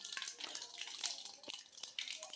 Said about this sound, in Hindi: इसमें कुछ पानी आएगा। पानी आने के बाद में वो खाली हो जाएगी।